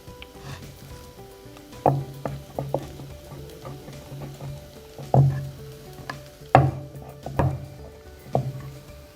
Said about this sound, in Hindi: अब पापड़ियों को घी में फ्राई करते जाएं।